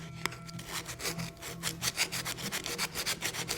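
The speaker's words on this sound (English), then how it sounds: "I'm gonna take this sandpaper and try and just get in there and work" Sandpaper scrubs back and forth over a thrifted wooden item in a steady, rapid rasping rhythm, close and fairly loud, with no voices.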